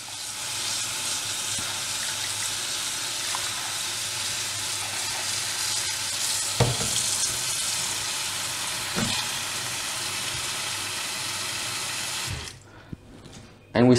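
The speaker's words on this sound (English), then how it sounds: "Now we turn on the water again." Tap water pours steadily into a bowl in a kitchen sink for soaking broccoli with baking soda, a loud sustained splashing rush with a couple of clunks, then cut off near the end.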